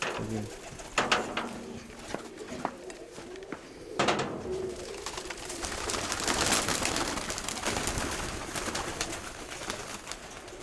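Pigeons kept for sale coo softly and repeatedly at close range, with rustling and faint background bustle around them.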